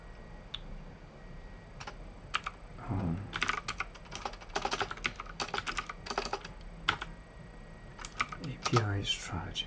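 Rapid, uneven clicking of a computer keyboard during coding work, close and steady over a constant low background hum.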